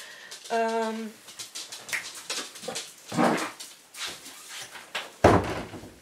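A dog whines in a high, wavering tone, followed by scattered knocks and thumps nearby, with a louder bang toward the end.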